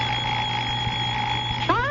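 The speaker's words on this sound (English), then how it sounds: "I'll murder that alarm clock." Alarm clock ringing as a radio drama sound effect, a sustained bright electric buzzing tone held steady before cutting off, with a short vocal sound at the end.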